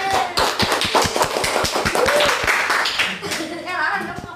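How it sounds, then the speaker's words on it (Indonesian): A class claps together in a classroom, with many quick overlapping claps forming a steady round of applause that goes on for several seconds. "Tepuk tangan teman-teman semuanya."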